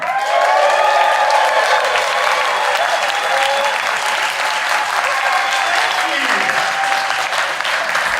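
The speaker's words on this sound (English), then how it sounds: "Thank you very much for that completely unprompted applause." A conference audience in Bristol, at an eCommerce South West event, breaks into dense, sustained applause that fills the room evenly from start to finish, with a few faint voices mixed into the clapping.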